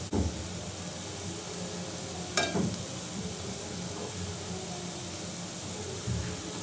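Ananda naru, a traditional Bengali sweet, fries in oil with a constant soft sizzle and one brief sharp crackle partway through.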